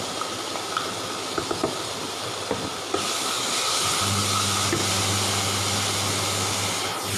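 Red chili paste from dry-roasted chilies hitting hot oil, a sudden loud broadband sizzle that starts midway after quieter kitchen clatter and holds steady to the end.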